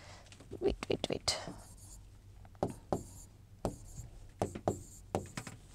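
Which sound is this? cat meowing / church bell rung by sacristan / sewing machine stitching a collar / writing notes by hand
writing notes by hand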